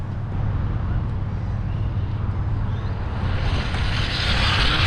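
A Traxxas Bandit RC car, modified as a Batmobile, makes a full-throttle speed run outdoors, giving a steady high-pitched whine that builds toward the end over constant wind rumble, with no talking.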